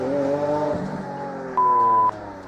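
A Lamborghini Aventador LP700 supercar engine runs loud and close, a tonal mechanical whine that drops in pitch, falls away and then comes back with a sharp sustained note.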